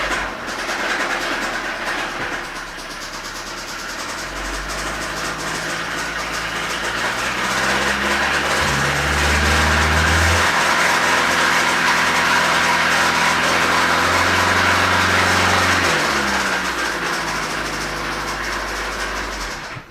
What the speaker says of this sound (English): Kind of don't like to have it that high of RPM with the noise that it's making